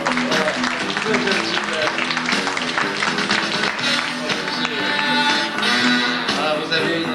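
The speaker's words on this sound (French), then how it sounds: "Applaudissements pour sympathiques spectateurs." An audience at a French variety show applauds the spectators, dense continuous clapping for several seconds mixed with crowd noise, while a voice speaks briefly over it.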